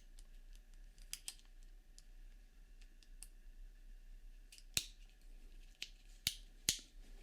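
A repaired plastic electric lamp switch clicks sharply several times, isolated snaps scattered over a quiet background, the last few louder and crisper.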